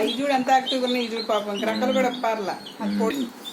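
Rapid high peeping of chicks, a steady run of short chirps close by, with a voice speaking softly underneath.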